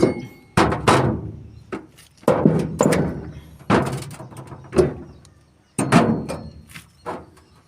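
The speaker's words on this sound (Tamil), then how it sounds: "இப்போ நான் ஃபியூஸ் கரியரை ரிமூவ் பண்ணிக்கிறேன்" A fuse carrier being pulled out of a starter panel, producing a series of sharp knocks and thunks spaced irregularly, loud and close, with short metallic-plastic clatter between them.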